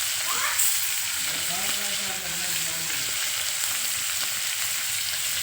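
Chilapi fish pieces frying in plenty of oil over a wood-fired stove, a dense, even sizzle that holds steady throughout, with faint background voices beneath it.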